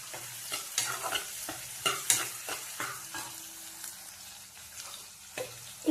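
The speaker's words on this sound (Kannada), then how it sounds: "ಚೆನ್ನಾಗಿ ಎಣ್ಣೆಯಲ್ಲಿ ಫ್ರೈ ಆಗಿ ಈರುಳ್ಳಿ." Onion and curry leaves fry in oil for an aloo palya, a soft sizzle broken by repeated stirring scrapes of a spoon against the pan, fairly quiet and close.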